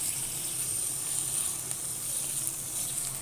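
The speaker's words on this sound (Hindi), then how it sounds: "ये डाल दूँगी और टमाटरों को भी फ्राई करूँगी जब तक टमाटर सॉफ्ट ना हो जाए" Chicken pieces and chopped tomatoes fry in a pan for a chicken fajita pasta, giving a steady, loud, close hiss and sizzle with no break.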